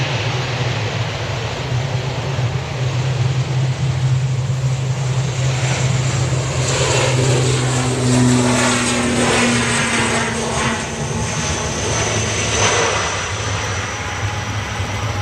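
Airliner taking off at Manchester Airport in the early morning, a loud continuous jet engine roar with a low rumble, steady and sustained throughout with a rising whine partway through.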